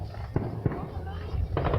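Fireworks exploding in the night sky: three sharp bursts over steady background noise, with a muffled voice nearby.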